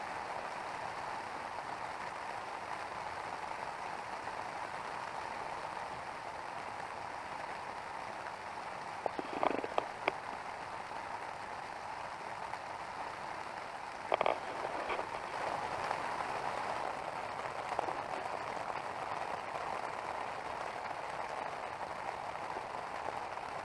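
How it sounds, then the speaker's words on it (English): Steady rain patters on a tent and the surrounding forest during an overnight backpacking trip near a lake in David Thompson Country, a constant soft hiss with a couple of brief louder rustles and no talking. "Now we're gonna have to hike out in this rain"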